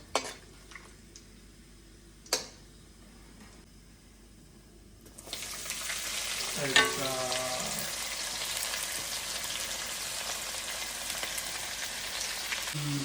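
Bay leaves and whole spices, then onions, frying in a pan for Punjabi-style chicken curry; a couple of faint clicks give way to a steady, close sizzle with stirring scrapes partway through.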